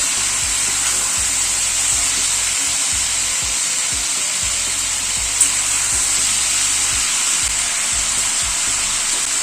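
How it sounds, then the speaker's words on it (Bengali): Mixed vegetables sautéing in a pan over a raised gas flame for a vegetable curry, a loud continuous sizzle and hiss with low rhythmic stirring thumps throughout, with no talk. "এবার একটু গ্যাসের ফ্লেমটাকে বাড়িয়ে দিয়ে সবজিটা একটুখানি কষিয়ে নেব।"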